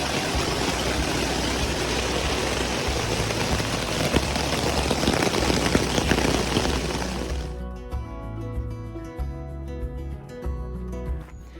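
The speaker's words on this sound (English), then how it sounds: "So we finally got that rain I'd been hoping for last night." Steady, dense overnight rain hiss on the Appalachian Trail fills the first several seconds, then stops abruptly as soft music carries on alone.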